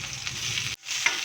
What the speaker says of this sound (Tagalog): Gisa na natin yung sibuyas.